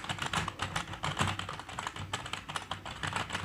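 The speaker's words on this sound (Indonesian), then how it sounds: "sekarang saya akan coba ketik acak." Fast, irregular keystrokes clatter close by on a keyboard hooked to a phone through an OTG cable, a dense run of clicks and taps with no pauses or talking.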